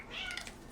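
A short, faint meow from a house cat somewhere off in the background, a single drawn-out cry in an otherwise quiet room.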